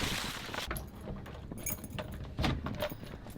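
House keys jangle in short, faint metallic bursts, a few scattered clinks and rattles coming close together in an otherwise quiet room.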